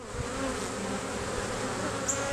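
A dense, continuous buzzing of many honeybees on a hive frame close by, steady and droning with no voices.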